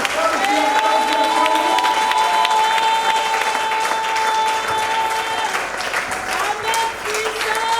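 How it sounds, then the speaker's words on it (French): A large church congregation applauds continuously with cheers and whistles rising above the clapping, loud and sustained throughout. "Sous vos acclamations, recevons notre Père."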